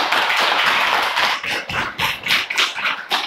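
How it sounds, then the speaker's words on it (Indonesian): Applause from a class of students in a classroom during a science lesson, a dense burst of clapping that thins into scattered, uneven claps toward the end. "tepuk tangan untuk kalian semua"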